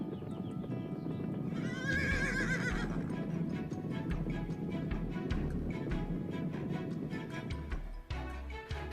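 Wild mares and stallions neigh and whinny loudly outdoors, with a high squealing call near two to three seconds and scattered hoof clip-clops and movement throughout.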